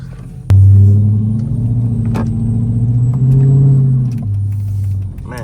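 A Dodge Hellcat starts up with a sudden loud engine roar, then drives with a steady, deep rumble that climbs in pitch briefly as it revs before settling back, close and continuous throughout.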